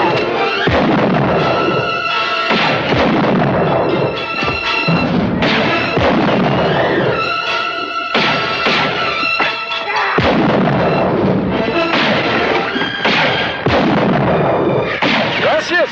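Loud, repeated gunshots ring out in a 1964 western as a gun is demonstrated, booming bursts mixed with dense music and some voices throughout.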